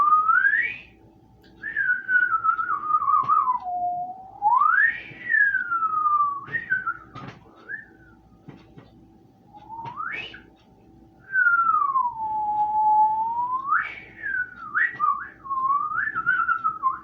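A person whistles an imitation of the flute tune from SpongeBob SquarePants: clear, close whistled phrases with long sliding pitches, broken by short pauses between melodic runs.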